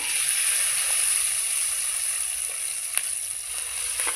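Crushed garlic and cumin seeds fry in hot oil with a steady, bright sizzle throughout, close and fairly loud, broken by a few faint pops and a light clink of stirring.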